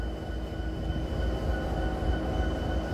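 CSX freight locomotive hauling a loaded coal train, a steady low diesel rumble with a faint tonal whine, continuous and fairly distant, with no talk.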